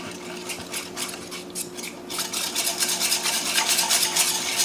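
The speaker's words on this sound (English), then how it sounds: "All right, so let's give that a whisk." Whisking a salad dressing of honey and pepper in a bowl: quick rhythmic scraping strokes, lighter at first, then faster and denser for the second half, close up with no voices.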